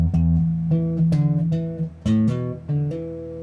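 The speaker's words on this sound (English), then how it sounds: "we still have the hammer-ons and we still have the funky bass sound" A funky bass guitar line with quick hammered-on notes, played alone in short punchy phrases with brief gaps between them.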